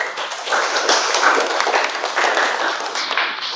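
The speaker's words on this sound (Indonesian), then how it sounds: "Oke, tepuk tangan dulu untuk si Abraham." A classroom of students claps for a fellow student, a dense, steady wash of applause lasting several seconds, fairly loud and close, with no talking over it.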